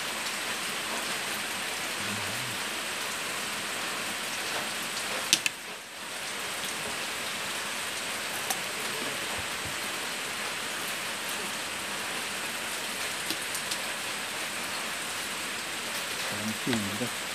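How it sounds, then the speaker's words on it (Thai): Steady rain falls in a broad, even hiss throughout, constant and fairly close, with a brief lull near the middle and faint low murmurs here and there. "บรรยากาศฝนตกครับ"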